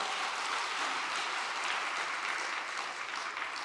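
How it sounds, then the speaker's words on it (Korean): Sustained applause from a church congregation at a religious gathering, a dense even wash of many hands clapping at steady loudness for the whole stretch, with no voices on top. "존재인 참부모님께 큰 박수 부탁드리겠습니다."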